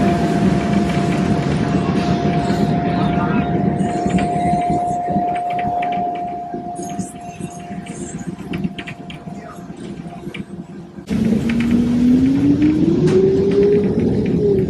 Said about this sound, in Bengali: ট্রেনটা দেখো কিরকম, কবেকার ব্রিটিশ আমলের ট্রেন গো এটা।